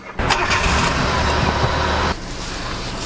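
A Daewoo Matiz with a three-cylinder engine cranks and fires up close by, a loud rough burst that settles about two seconds later into a steadier, quieter idle.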